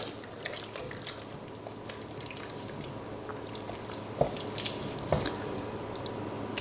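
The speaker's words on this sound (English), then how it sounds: "I'll add a little bit of water" Water splashes into a hot pot of gypsy sauce, setting off steady sizzling and bubbling, with a couple of sharp clicks partway through.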